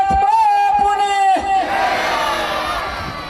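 A crowd at a mass wedding event raises a loud chant of welcome, a sustained voice leading at first, then a broad roar of many voices cheering together.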